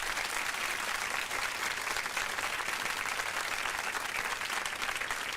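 Steady applause from an audience during a radio appearance, continuous dense clapping at a moderate, even level with no talk over it.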